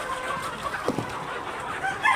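Sonali chickens cluck in short, scattered calls at moderate distance, a few sharper clucks punctuating a low farmyard background.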